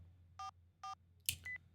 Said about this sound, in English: so this time I typed it into the phone.